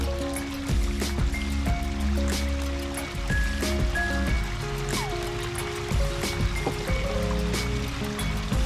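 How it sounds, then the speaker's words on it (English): Water pours steadily from a newly started waterfall on an ecosystem pond, a constant close splashing rush with trickling and gurgling throughout. "we're gonna fire up this damn waterfall"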